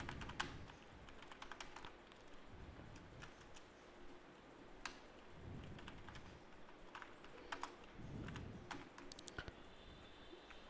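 Steady keyboard typing while HTML code is entered on a computer, with crisp, irregular key clicks in quick bursts and short pauses, close and fairly quiet throughout.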